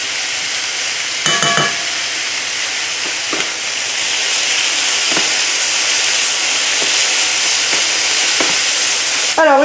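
Onion frying in a pan for chicken risotto, a steady bright sizzle throughout, broken by several sharp scraping stirs of a utensil against the pan, close and continuous with no talking.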